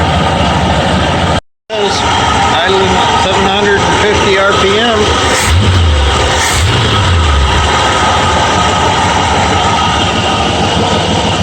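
A Ford F100 truck engine with a new carburettor idles at 750 RPM, loud and close, a low even rumble that cuts out briefly near the start.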